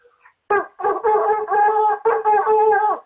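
A shofar sounds a trua as a wavering brassy tone broken by breath alone into uneven, breathy pulses in a few groups, close up and alone, less crisply articulated than tongued notes.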